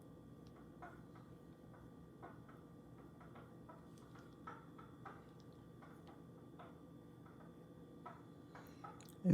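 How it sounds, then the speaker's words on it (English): A refrigerator in a quiet room gives off a steady low hum with faint, irregular ticking and clicking sounds throughout, ending in a brief louder knock. "The refrigerator makes some crazy noises sometimes"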